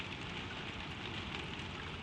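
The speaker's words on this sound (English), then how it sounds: "The rain falls." Gentle rain falls steadily in a quiet room at night, a soft, even hiss of drops that goes on without a break and with no voices over it.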